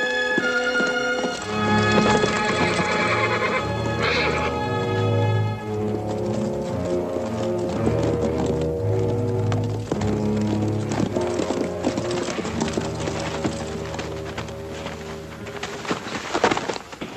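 A horse on a western cowboy TV show, with neighing and hooves clip-clopping along under a loud orchestral score, the music dominating throughout.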